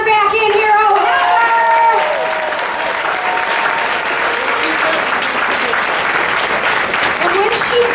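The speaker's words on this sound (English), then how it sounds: "let's get our hands together and call Heather back in here" An audience at a theater benefit performance breaks into applause, steady dense clapping with voices and a whistle over the start, continuing loud to the end.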